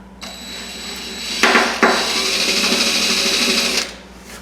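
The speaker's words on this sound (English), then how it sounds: "So I'm drilling on the edge, more of the edge of the hole." A power drill bores at the edge of a hole in a Ford Mustang body panel during bodywork, a steady close whine lasting several seconds with a couple of brief bumps as the bit bites, then stopping.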